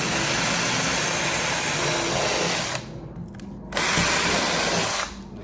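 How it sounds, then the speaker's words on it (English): A power drill whines loudly and continuously while enlarging pilot holes in a carbon fiber rear trunk spoiler for a Toyota Supra A90, pausing briefly twice as the motor drops off and then spins back up. "we did some little pilot holes, and now we're about to get them bigger"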